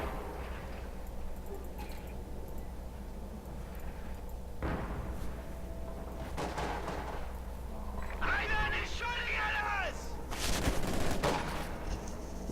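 Anti-personnel gunfire in Company of Heroes 2, scattered shots and bursts of small-arms fire under a steady battlefield rumble, with sharp cracks and a louder spell near the end.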